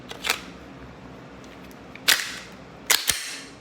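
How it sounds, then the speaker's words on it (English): A Glock 19 pistol is checked for function: a sharp metallic slide rack, then two crisp clicks of the trigger and slide, close and clear over quiet background. "So rack it back, pull the trigger."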